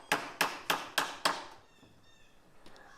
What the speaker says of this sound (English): then I drive the nails home